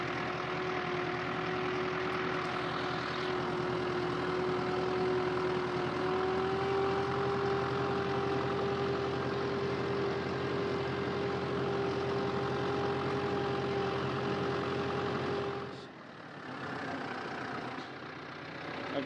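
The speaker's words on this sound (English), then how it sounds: "a clip that I took back in November of me on the tractor when I was cleaning the land" Tractor engine running steadily while clearing farmland on a goat farm in Portugal, a constant mid-pitched drone with a slight rise in pitch, dropping away near the end.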